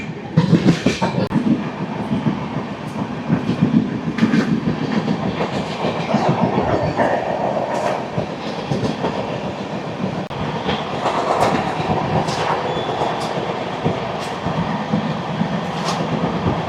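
Tatanagar–Howrah Steel Express running on rails between Jhargram and Kharagpur in the rainy season, with continuous loud rumble from inside the carriage, rhythmic clickety-clack of wheels over rail joints and occasional metallic squeals, no talking.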